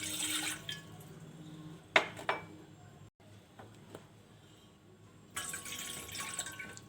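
Water is poured into two glasses in a home kitchen, a soft trickling splash with a few sharp clinks and gentle dribbles, faint and close against quiet background.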